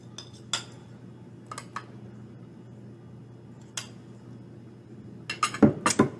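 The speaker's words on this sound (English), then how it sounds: "to serve, you can go ahead and spoon some onto a plate" A spoon scrapes cranberry crisp from a baking dish onto a plate, giving a few sparse metallic clinks at first and a quicker cluster of scrapes and taps near the end, close by and fairly quiet with no talking.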